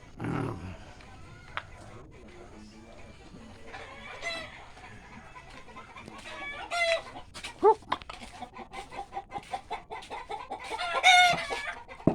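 Chickens cluck repeatedly and a rooster crows, with scattered bird calls over a busy background; talking is mixed in.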